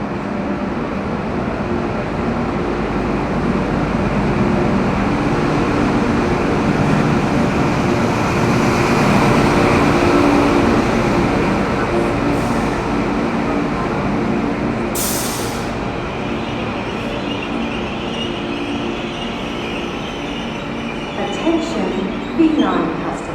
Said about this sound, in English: XPT sets from NSW Trainlink, at least I think that's the operator's name, arrived at platform 1 on a service from Sydney.